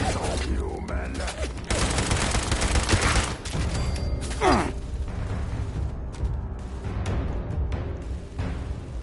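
Gunfire in the video game Fallout 76, dense bursts of shots and booms over a rumbling background for several seconds, thinning out toward the end, with voices mixed in.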